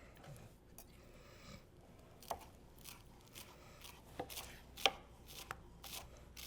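Knife chops two tomatoes on a board for carne asada costras, soft irregular taps and a few sharper cuts, quiet and close, no talk.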